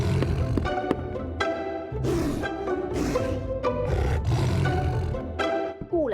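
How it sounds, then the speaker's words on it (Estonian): A tiger roars in a cartoon LEGO world, a string of loud, rough bellowing bursts rising and falling close up over about six seconds, with no speech. "Vaata, tiiger."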